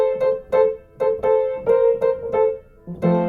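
A bright synth lead plays a short melody of punchy, clipped notes in an even bouncing rhythm, solo and close, ending on a lower note.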